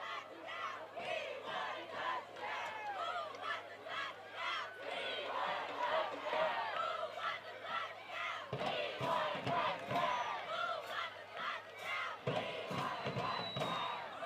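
Crowd at a York High vs Carlisle high school football game roars and cheers continuously, a dense wash of many voices with yells rising and falling throughout, sustained and fairly close.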